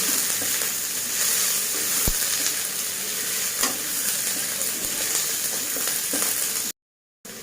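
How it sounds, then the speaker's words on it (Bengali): Sliced onions fry in hot oil in a pan for a cauliflower and prawn curry, giving a steady, fairly loud sizzle with a few sharp clicks of stirring and no voices. "পেঁয়াজগুলো দিয়ে একটু ভাজা ভাজা করে নেবো"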